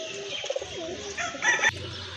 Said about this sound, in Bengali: খুবই সুন্দর এক জোড়া কবুতর দেখার মতো